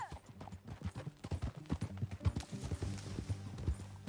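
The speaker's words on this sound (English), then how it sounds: "That a new horse?" Hooves of a horse in the video game Red Dead Redemption 2 clip-clop in a steady, fairly quiet trotting rhythm, soft game music underneath, with no voices.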